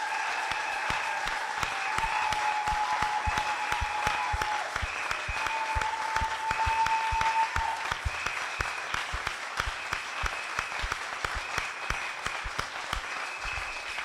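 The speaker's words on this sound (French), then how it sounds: "Just applaud to God." A church congregation applauding together, steady dense clapping filling the room throughout with faint singing or tones beneath.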